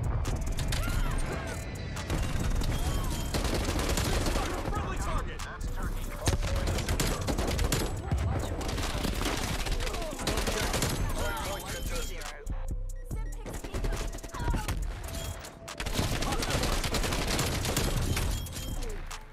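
A TEC-9 submachine gun fires full auto in a shooter video game, dense rapid bursts of gunfire and mechanical clatter running loud and continuous throughout, mixed with game effects.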